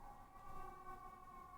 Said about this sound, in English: Sorry about the sirens, if you can hear them.